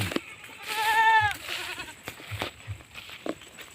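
Goats bleat in a forest, one loud, wavering bleat up close in the middle of the clip, with fainter rustling and shuffling around it.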